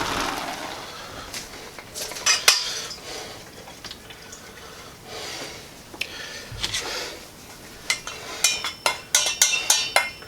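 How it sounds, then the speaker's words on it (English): Cooked peas drained from a pot, with a steady rushing pour of water and scattered drips, then a run of sharper clinks and splashes near the end as the pot empties, close and moderately loud. "So let me go ahead and drain these peas."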